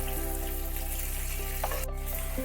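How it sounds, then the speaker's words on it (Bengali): Potatoes fry in oil in a pan with a soft, steady sizzle that stays faint and even throughout, with no voices over it. "আলুটাকে কিন্তু ভালোভাবে একটু তেলের সাথে ভাজা ভাজা করতে হবে।"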